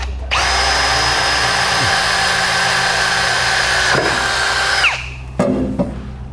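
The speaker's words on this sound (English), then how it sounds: "take a small drill bit here and drill a pilot hole in our rear" A power drill whirs loudly at a steady pitch for several seconds while drilling a pilot hole in a trailer hitch, then winds down, followed by a few brief clunks.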